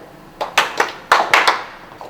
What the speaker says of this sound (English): clap your hands twice and take 1 step forward